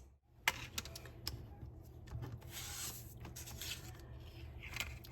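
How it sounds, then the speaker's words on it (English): A die cutting machine cuts a paper bookmark: close, quiet scraping and rubbing with a few sharp clicks and ticks, faint and irregular, no voice. "Go ahead and die cut this."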